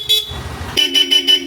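A Bosch Europa horn on a Yamaha Aerox v3 scooter sounds close and loud, one short blast followed by a series of three quick honks after a brief pause, over a low idling engine.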